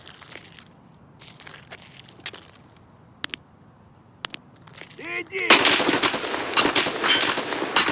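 A .50 cal machine gun fires in a first-person shooter game, starting with a few sharp isolated shots and then breaking into dense, loud, continuous automatic fire for the last couple of seconds.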